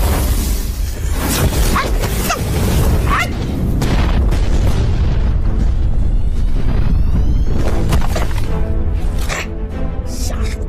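Cannon shell explosions in an animated show, a run of loud booms and bursts with whooshing debris, dense and forceful, followed by ringing tonal effects toward the end.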